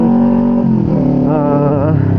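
Kawasaki Ninja 250 FI motorcycle fitted with a Prospeed Python exhaust, engine revving loud and close with a steady rough drone and rising then falling pitch, no voices heard.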